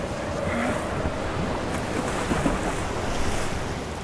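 Ocean surf out on the open Atlantic rolls in a continuous broad wash, with steady wind buffeting the microphone and a faint boat-like drone beneath.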